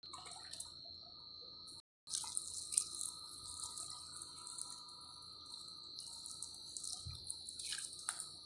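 Water poured from a container onto soil in a large plant pot, a quiet steady trickle and splashing with a brief pause, faint insect chirping in the background.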